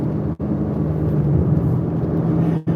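A Chevrolet Camaro ZL1 engine drones steadily while driving with the windows down, a continuous low rumble with a sustained tonal hum and brief dips, close and fairly loud.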